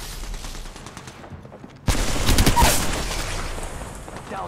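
Gunfire in the Apex Legends video game erupts after quiet background chatter, a loud burst of rapid automatic shots that settles into sustained firing and action noise.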